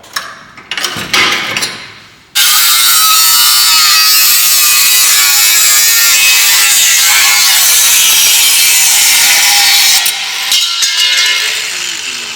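A Ryobi power tool makes a slow cut while working on an E46 drift car, starting after a few seconds of clattering handling. It then runs as a loud, steady, high-pitched grinding whine for about eight seconds before winding down.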